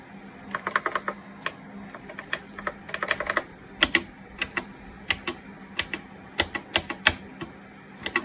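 Keys on a Japanese 1980s MSX computer keyboard are pressed in uneven bursts of close, crisp clicks, sometimes single taps and sometimes quick clusters, over a faint steady electrical hum.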